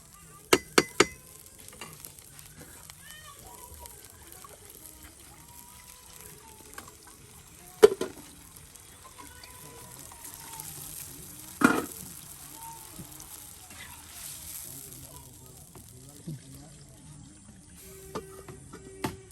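Egg bhuna fries and is stirred in a pan at an outdoor jungle cooking spot, giving a steady close sizzle with scraping stirs and a few sharp clinks and knocks of the utensil against the pan.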